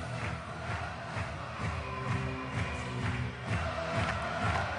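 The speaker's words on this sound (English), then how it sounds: "I think the crowd are cheering for both teams here" A stadium crowd at a men's beach volleyball semi-final between the Netherlands and Canada, a steady roar of cheering and shouting with rising swells, fairly loud and continuous.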